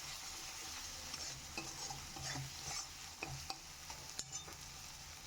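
Spices sizzle quietly in oil for an aloo phulkopi curry with potato, cauliflower, eggplant and bori, while a spoon scrapes and stirs the pan in irregular clinks over a steady soft fry.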